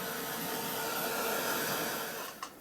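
A hair dryer blows steadily to dry paint splatters on an art journal page, a constant close, full whooshing hum that holds level, then ends with a brief click near the finish.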